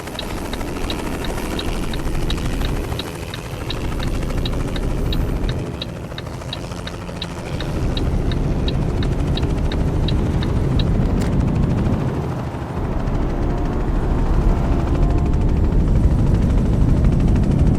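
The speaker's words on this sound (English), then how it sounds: "Not sure what that helicopter is hanging about for." A helicopter hovers over a highway near Tucumcari in American Truck Simulator, its rotor making a steady, loud drone with a faint rapid chop that holds for the whole stretch.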